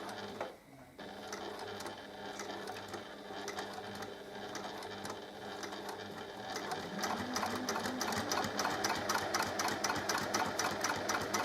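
A sewing machine stitches a seam around a fabric pouch, a fast, steady mechanical whir with close rhythmic needle clatter that stops briefly near the start and then runs on continuously.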